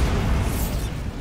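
A Bombarda blast spell fires in Hogwarts Legacy, a short, dense rumbling explosion with a booming low body that fades over about a second.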